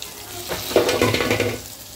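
Potatoes fry in a pan over a gas flame, giving a close, dense sizzle with a brief scraping stir through the middle of the short sound.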